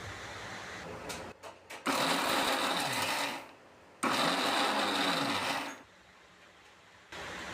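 A mixer grinder pulverises sesame seeds, peanuts and cardamom in two loud whirring bursts of about two seconds each, with short pulses before them and quieter pauses between, very close.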